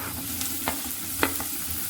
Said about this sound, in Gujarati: બધું છે એ એકદમ સતળાવા દેવાનું છે ધીમા તાપે